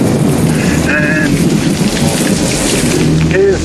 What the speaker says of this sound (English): Come on, Carol Ann, it's raining!